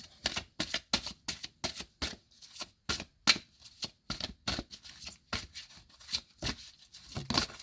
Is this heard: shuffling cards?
yes